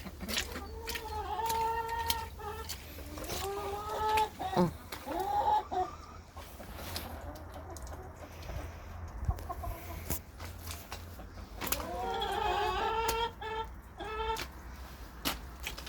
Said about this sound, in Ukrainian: Курочка несеться.